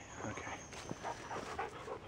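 A pet dog gives soft, faint yips and whimpers in short bursts against steady background hiss outdoors, quiet and somewhat distant.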